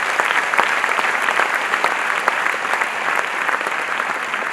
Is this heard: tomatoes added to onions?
no